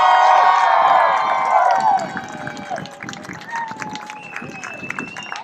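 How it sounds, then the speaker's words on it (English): An audience at an air show VIP reception applauds and cheers for a Thunderbirds pilot, a loud crowd roar with clapping that fades gradually over a few seconds as whistles and voices trail off. "Huge round of applause for Threat."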